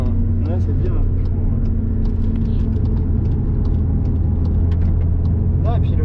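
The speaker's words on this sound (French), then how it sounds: "Quand t'es en dessous de 3000 tours minutes, la ligne d'échappement elle casse pas la tête" A car exhaust burbles at low revs, below 3000 rpm, as a steady deep rumble with a throbbing low pulse that runs throughout, while people talk loudly over it.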